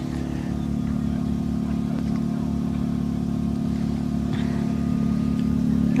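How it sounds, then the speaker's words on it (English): Rally cars leaving the start line at Pirate Cove in Needles, California, during the Rebelle Rally, a steady mid-pitched engine drone close by that builds slightly toward the end. "Got a few more cars going off the line here this morning."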